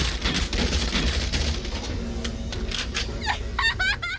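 Rapid volleys of gunfire in the video game Valkyria Chronicles 4, loud and continuous at first, then tapering off into a few sharp chirping effects.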